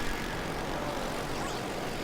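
A helicopter in the video game Earth Defense Force drones steadily with a broad, constant engine and rotor roar and no clear talk.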